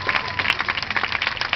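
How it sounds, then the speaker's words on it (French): An audience applauds a seal's short dance performance, a brief, close burst of dense clapping that fills the whole moment. "on peut l'applaudir pour cette petite performance."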